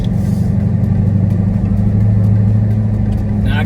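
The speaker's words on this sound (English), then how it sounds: "Like I said, supercharged sound way louder now." A 2020 Dodge Charger Hellcat Widebody with a supercharger and Bwoody intake idles loud and close, with a steady deep engine rumble that swells slightly midway.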